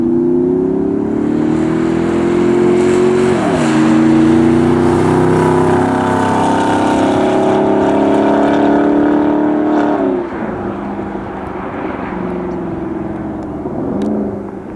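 McLaren and Gemballa cars drive along a runway, engines droning loudly and steadily as they pass, with gear-change dips in pitch and a quieter stretch near the end.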